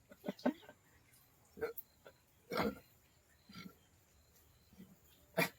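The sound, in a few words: burping after drinking lots of Thums Up soda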